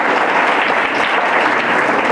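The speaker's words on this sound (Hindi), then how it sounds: "इनके लिए तो जोरदार तालियां बजाएंगे" Students clapping loudly for their teachers in a school gathering, a dense, steady burst of applause filling the whole stretch without pause.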